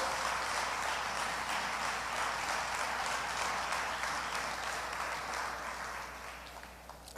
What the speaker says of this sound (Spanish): Denle fuerte las palmas al Señor en el nombre de Jesús